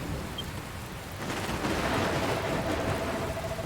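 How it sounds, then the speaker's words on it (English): Steady rain hiss in the Dragon Quest Builders 2 video game, swelling into a denser, louder downpour midway with a faint low rumble beneath, no voices. "Looks like there's another storm rolling in."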